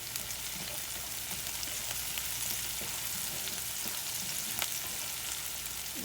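Onions frying in oil in a pan for beef stew, a steady even sizzle close by with occasional soft stirring ticks, no voices.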